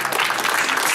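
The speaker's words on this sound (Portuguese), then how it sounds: "Então parabéns e uma salva de palmas pro Jorge" Applause at an evangelical cotton wedding anniversary celebration: a dense burst of clapping from a crowd, loud and close, filling the whole brief moment without speech.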